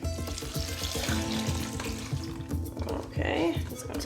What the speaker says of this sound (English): now I'm gonna add as much water as it needs to be covered.